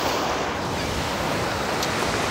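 Ocean waves wash up on a beach in a steady, broadband surf roar that fills the whole span, close and fairly loud, with a faint rush of wind and no talking.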